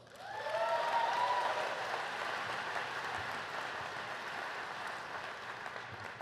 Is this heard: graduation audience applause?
yes